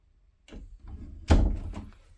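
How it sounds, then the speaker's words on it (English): A household door swung shut over a patch of burned flooring, a soft scrape followed by one firm thunk that fades out, close and fairly loud, with no talking. "Let me see if the door goes over it."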